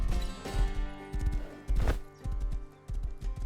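Horse hooves clip-clop steadily across the ground in the video game Rust, rhythmic close thuds in quick bursts with a brief pause midway, loud and clear with no talking.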